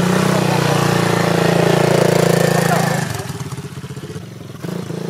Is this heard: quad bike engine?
yes